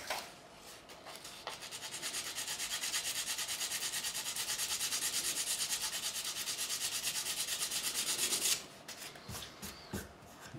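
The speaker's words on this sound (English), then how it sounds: "Take a piece of more coarse sandpaper." Coarse 180 grit sandpaper rubs rapidly back and forth along the neck of a 1972 Gibson Les Paul Deluxe P90, a fast rhythmic rasp lasting about seven seconds before stopping, followed by light handling noises.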